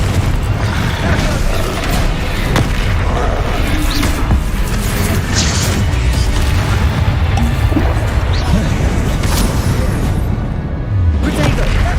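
Spell explosions from the Confringo curse in Hogwarts Legacy hard-mode combat, a dense continuous barrage of booms, crashes and whooshes layered under constant battle noise, with occasional voices.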